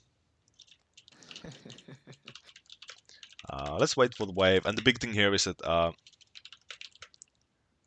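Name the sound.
typing on a computer keyboard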